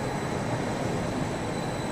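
A Bernina railway train pulls into a Swiss station platform at Poschiavo, a steady broadband rumble and hiss of rolling cars with a faint high whine, continuous and fairly close, with no voices.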